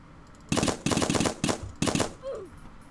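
Paintball gunfire in a Roblox paintball game: four loud, rapid bursts of automatic shots in quick succession, close and dominant, followed by a short whooshing sound.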